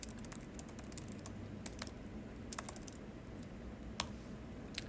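Quiet, rapid typing on a computer keyboard, a continuous patter of soft key clicks with a few sharper taps standing out, heard alone.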